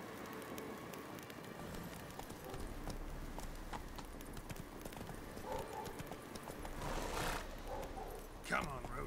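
Roach the horse clip-clops steadily on hooves in The Witcher 3, close by with a continuous rhythmic beat over ambient game sound and some speech.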